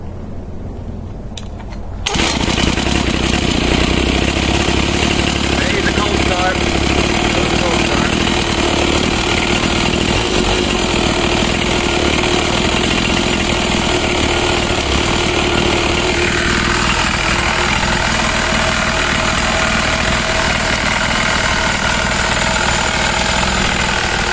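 A pocket dirt bike engine, run on a little choke, roars loud and steady for the whole stretch after a quiet opening moment, a harsh buzzing drone whose tone drops slightly near the end.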